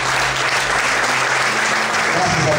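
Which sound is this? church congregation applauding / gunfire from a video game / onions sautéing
church congregation applauding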